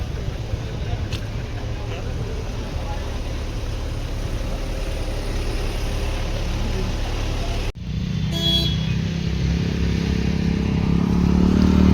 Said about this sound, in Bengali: প্রায় 1 কিলোমিটার আগে বিশাল জ্যাম হয়ে গেছে